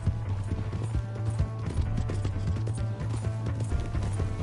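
A horse gallops in Red Dead Redemption 2, its hoofbeats a steady, rapid clip-clop that runs loud and continuous throughout with no talking over it.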